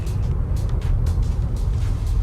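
Steady low road rumble and tyre noise from inside a Tesla Model Y on the move, a continuous drone with faint airy whooshes above it.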